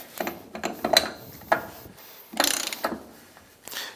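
A torque wrench ratchets in quarter turns while tightening the prop shaft bearing on a MerCruiser Bravo One outdrive. Bursts of crisp mechanical clicks come up close, separated by short pauses.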